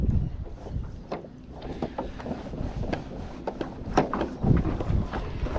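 Strong wind buffets the microphone on a Hobie Lynx kayak while fishing for bream, loud irregular gusts and rumbles with faint boat and water noise.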